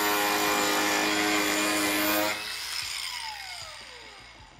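A grinder fitted with a K-One 60-grit abrasive disc cuts into wood, giving a loud, steady whining grind that drops off and slowly fades as it spins down.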